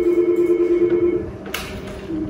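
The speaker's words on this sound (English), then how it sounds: "David, it's British Home Awards on the phone." A telephone rings in an architects' office, a steady electronic ringing tone holding through the clip with a brief click partway, fairly close and alone with no talk.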